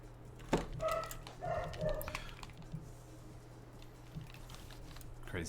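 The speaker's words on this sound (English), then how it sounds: "Crazy dog." A dog barks a few times at a distance, with scattered soft clicks and taps, then goes quiet.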